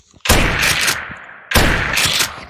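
A gun from a Minecraft beta weapon mod fires in two loud, close bursts of rapid shots, each lasting about a second with a short gap between them.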